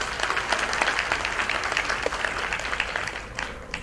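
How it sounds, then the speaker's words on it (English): Audience at a convocation ceremony in Chandigarh breaks into applause, a dense, even roll of many hands clapping at moderate distance, sustained for several seconds before thinning out. "I think we should give them a big round of applause."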